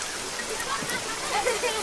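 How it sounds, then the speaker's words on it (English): Steady rain falls as a dense, even hiss that continues alone throughout, with no distinct drops or thunder standing out. "Look at this rain."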